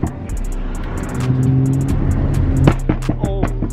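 A BMW F30 sedan with a stage 1 MHD tune free-revs while parked in a tunnel, the engine note swelling through a sustained rev and then dropping back with sharp throttle blips, loud and close.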